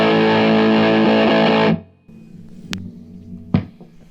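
A Stratocaster through an MXR Classic 108 Mini Fuzz at full volume with the buffer off rings out as one loud, sustained, fuzz-saturated chord, cut off after under two seconds and followed by quiet room hum and a couple of soft clicks.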